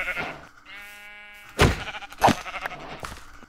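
Sheep bleat in Minecraft, several short wavering calls at moderate loudness, with one drawn-out harmonic bleat followed by two sharper, louder bursts and some game sounds between them.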